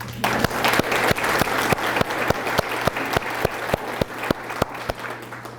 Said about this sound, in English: Please join me in giving my kind hostess, your friend and colleague, a hearty round of applause.